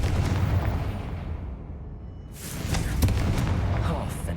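A Confringo explosive spell goes off in Hogwarts Legacy as a deep booming blast with a rumbling tail, followed by a sharper burst and crackling debris over continuous game background.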